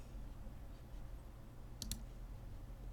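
Two quick computer mouse clicks in close succession, sharp and near, over a low steady room hum while working through a lab spreadsheet.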